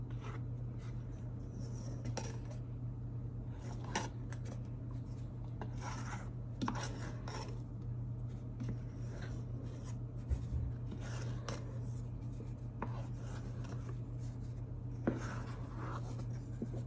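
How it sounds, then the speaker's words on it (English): Soft, repeated scraping and rubbing of a spatula gently folding chocolate batter in a bowl, close and quiet over a steady low hum, with occasional light knocks. "So you see I'm still folding gently, gently,"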